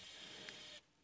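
Profilometer measuring a honed engine cylinder surface, a steady faint high-pitched electronic whir that runs briefly and then stops.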